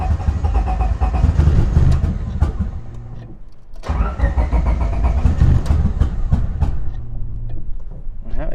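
A boosted Honda Civic hatchback engine cranks and catches, then runs rough and uneven with a loping, stumbling idle, cuts out briefly, and starts again, loud and close by.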